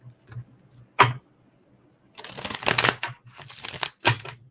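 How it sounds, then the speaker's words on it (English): Oracle cards are shuffled by hand, producing a few quick papery slaps followed by a longer run of riffling and flicking, close and crisp with quiet gaps between, no talking. "One more shuffle."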